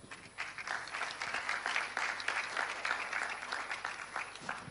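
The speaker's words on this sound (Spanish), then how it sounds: "Un aplauso para él." A crowd applauds at a Premio Exportador del Año awards conversation event, with dense, steady clapping that holds for several seconds.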